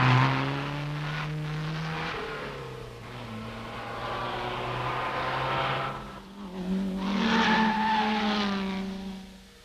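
Vintage racing cars at the 1964 Tour Auto in France, including an Alpine, roar around the circuit, engines droning loud and steady before one swells in a near pass and fades away.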